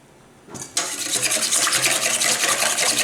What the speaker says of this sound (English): Make sure you keep whisking it.